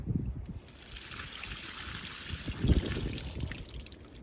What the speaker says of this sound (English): then you go to my heavenly water carrier, fill it to the top.